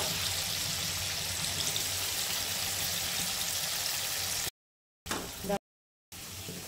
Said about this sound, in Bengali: পনিরটাকে আমি একদমই হালকা করে ভাজবো।